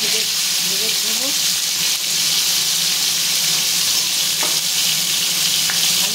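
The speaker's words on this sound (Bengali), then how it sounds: "ছোটো ছোটো টুকরো করে আলু ভেজে নেবো।" Small pieces of potato fry in oil in a pan, a loud, steady sizzle running throughout with occasional stirring, and a voice speaking briefly underneath.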